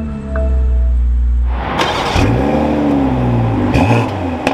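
A 2022 BMW M440i Convertible starts with a loud crank, then its engine flares into a strong rev and settles into a steady, deep idle with small blips, heard up close with no voices.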